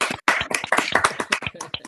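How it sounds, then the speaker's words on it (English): Audience applause right after a live performance, dense and steady clapping from a crowd filling the whole moment, with a brief dip near the start. "Keep clapping so they can hear you."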